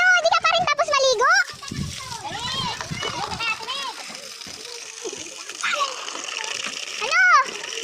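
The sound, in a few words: water splashing as a child is bathed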